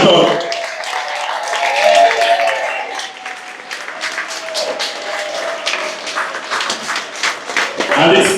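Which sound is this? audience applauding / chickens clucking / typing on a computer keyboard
audience applauding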